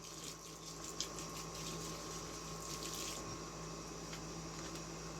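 Water running steadily from a pump or tap while potting soil is mixed for growing plants, a continuous hissing flow with a faint hum beneath and occasional soft splashes, no voices.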